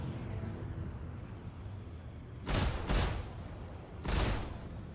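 Explosions in a video game burst out as three sharp booming blasts, two close together and a third a second later, over a steady low rumbling background.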